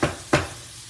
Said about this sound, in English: So we're gonna caramelize those onions and that flavor. We got the oil from our burgers with that seasoning.